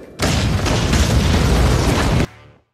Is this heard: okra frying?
no